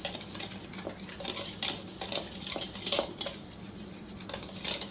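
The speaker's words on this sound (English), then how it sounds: "I'm going to blend all of my dry ingredients here" Dry cornbread ingredients being blended in a mixing bowl with a utensil, a steady scraping and stirring broken by repeated sharp clinks against the bowl, close and moderately quiet, with no talking.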